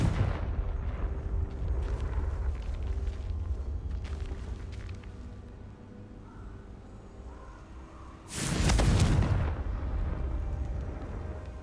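Confringo blasting spell from the Hogwarts Legacy video game going off as a loud, booming burst late in the passage, preceded by quieter rumbling game ambience and faint scattered effects.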